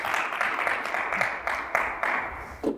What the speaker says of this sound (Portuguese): Glorificar o Senhor Jesus com as palmas bem alegre